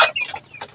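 A hen gives a brief, close cluck with a couple of short squawking notes inside a chicken house for growing birds, over in under a second.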